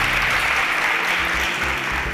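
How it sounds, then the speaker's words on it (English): Studio audience at a Nigerian game show gives a round of applause for two departing contestants; dense, steady clapping fills the whole stretch, loud and continuous with no voices over it. "can we give a round of applause to Ose and Camera?"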